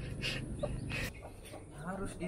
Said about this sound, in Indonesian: Harus diturunin babonnya dulu baru ayam-ayamnya.